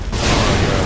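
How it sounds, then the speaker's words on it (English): A C4 charge detonating in a first-person shooter game, a single loud, dense blast that erupts abruptly and rumbles on for the rest of the second. "That was a huge explosion. I threw my C4 in the back."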